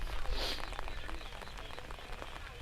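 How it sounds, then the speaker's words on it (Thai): Steady rain falls on a fruit orchard on a mixed farm, a dense, even patter of drops with no pauses. "แล้วก็ฝนตกปล่อยๆแบบนี้ไหม"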